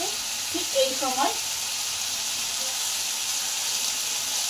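Pointed gourd (potol), half boiled and half fried, sizzles in a pan while cooking for a Bengali labra vegetable dish: a steady, even frying hiss throughout, with a couple of brief voice-like sounds near the start.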